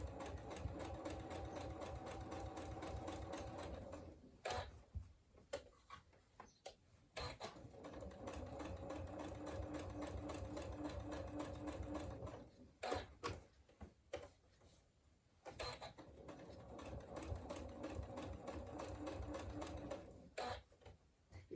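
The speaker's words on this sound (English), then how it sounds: "when you start sewing again the needle doesn't jump to another position" A sewing machine stitching a fabric workshop bag, running in steady mechanical bursts with a rapid rhythmic needle clatter, pausing briefly twice as the work is turned, close and fairly quiet with no talk.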